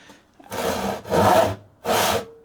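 A freshly sharpened Spear & Jackson crosscut saw cutting wood on a bench, three distinct rasping strokes, each about half a second, close and fairly loud with short gaps between.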